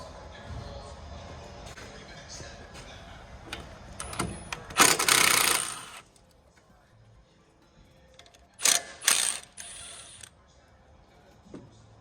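A ratchet wrench works loose bolts during a Rough Country 2-inch lift kit install on a 2019 Toyota 4Runner, giving two bursts of loud, close clicking and rasping separated by quieter stretches.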